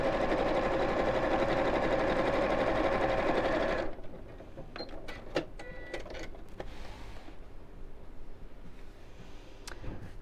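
Sewing machine stitching a half hexagon cushion cover, running steadily and loud for about four seconds, then stopping, followed by soft handling clicks and rustles of fabric.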